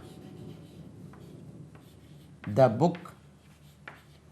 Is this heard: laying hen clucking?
no